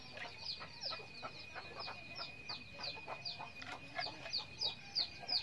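Free-range Gavaran country chickens roam a small poultry farm behind a house, giving a run of short, rhythmic clucks that repeat steadily and grow slightly stronger toward the end, fairly faint and unaccompanied by talk.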